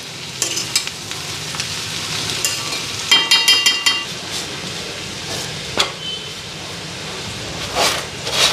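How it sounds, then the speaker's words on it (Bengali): Rotis frying in a hot pan give off a steady sizzle with scattered scrapes and clicks of stirring, including a quick cluster of knocks partway through and sharp ticks near the end, with no talking. "এদিকে রুটি ভাজা কমপ্লিট"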